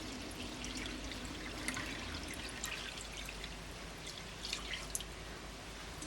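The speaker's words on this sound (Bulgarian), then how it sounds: "слагам студена вода." Cold water splashes and trickles onto washed wheat grains in a pot, a soft steady pouring with scattered drips and small splashes, faint and close.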